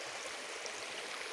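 Water flows through a paddy field during the monsoon, a steady close burbling rush with no other sounds.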